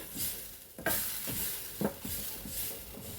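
Paneer and green pea curry spits and sizzles in a pan on the stove, a steady frying hiss broken by a few sharp pops and spatters, close and loud with no voices.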